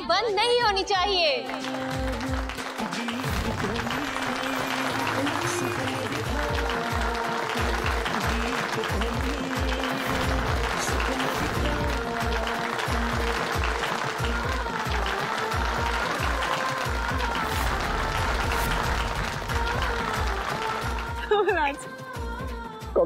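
Sustained audience applause and cheering fill a TV music championship stage as the winner from Punjab is announced, dense and continuous for about twenty seconds with a musical bed underneath, then tapering near the end as voices come in.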